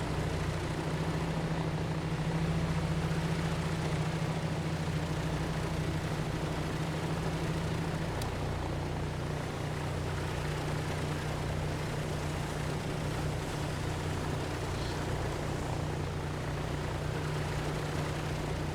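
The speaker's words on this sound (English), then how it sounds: "Okay, right engine is started now." An aircraft propeller engine runs steadily just after starting, a loud continuous drone with a constant low tone that holds for the whole stretch, with no talk.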